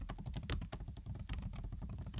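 Steady, fast typing on a computer keyboard while building a Flutter chat app interface, a dense run of close, clicky keystrokes with no pauses.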